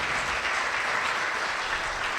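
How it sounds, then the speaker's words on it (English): Dense, steady applause from a summit audience fills the whole moment, a continuous wash of many hands clapping at even loudness with no voices on top. "a little applause, that doesn't sound bad"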